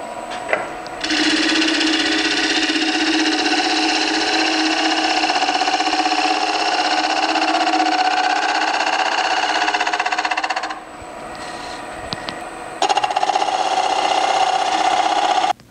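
Wood lathe spinning a rough-turned elm bowl at 1000 RPM, a loud, steady motor whine and hum that holds for about ten seconds, drops briefly, then returns.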